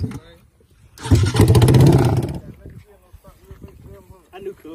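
An ATV at a street drag race cranks up: a loud, rough engine burst of about a second and a half rises and fades, with people talking before and after.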